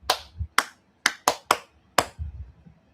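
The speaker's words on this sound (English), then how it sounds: "Let me clap for you." Six sharp, close hand claps spaced unevenly over a few seconds, each a crisp single crack with quiet gaps and faint low thuds between, no talking.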